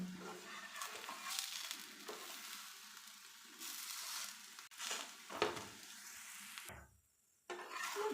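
Adai flatbread made with ragi and greens cooks on a pan, a soft continuous sizzle broken by scraping and flipping noises, with a brief silent gap near the end before the frying resumes.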